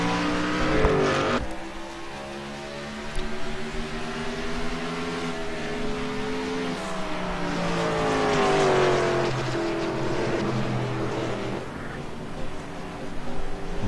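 Race cars running under caution behind a pace car, a steady engine drone with rising and falling harmonic tones throughout, moderately loud with no clear talk.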